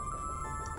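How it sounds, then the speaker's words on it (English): A telephone ringing in the video game The Charnel House Trilogy, a steady, electronic ring tone continuing for the whole short moment. "someone answer that bloody phone"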